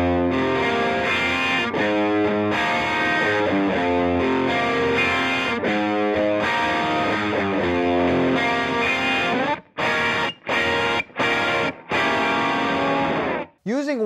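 Electric guitar played through an OCD overdrive pedal and captured with a Roswell Pro Audio Mini K67x condenser microphone, giving sustained, dense distorted chords that end in a few choppy stabs with short gaps.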